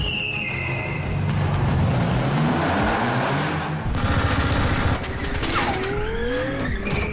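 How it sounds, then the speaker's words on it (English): Machine-gun fire rattles in rapid bursts during a Fast and Furious car stunt scene, loud and continuous, mixed with screeching tires and rising and falling engine whines. "he's being shot at by a machine gun and shot at by these grenade launchers"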